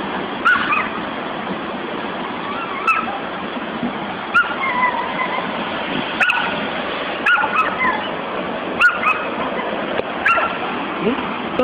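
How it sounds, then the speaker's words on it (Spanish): A distressed dog during a tsunami whimpers and yips repeatedly in short, sharp bursts spaced a second or two apart, close and fairly loud over a constant wash of rushing water. "Grabando el perro."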